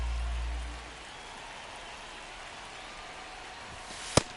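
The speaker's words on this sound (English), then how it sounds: "the field's not going to be able to hold up if the rain gets any worse than this" Heavy rain hisses steadily over a baseball field in MLB The Show, a dense, even wash of falling water with one sharp crack near the end.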